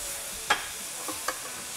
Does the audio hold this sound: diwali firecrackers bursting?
no